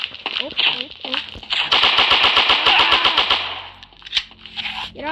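An AK rifle in a mobile shooter game fires a long rapid automatic burst of sharp, evenly spaced shots, with scattered single shots before and after and a voice talking over it.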